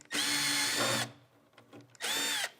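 A power drill backing screws out of the top of a MAG-200 metal dust collector, two loud high-pitched whirring bursts close by, separated by a pause with faint clicks and handling.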